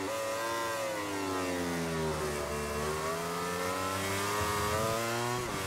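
Motorcycle engine in the MotoGP 17 racing game revs continuously, pitch sweeping down and back up through gear changes, a steady whining drone that stays loud and close throughout.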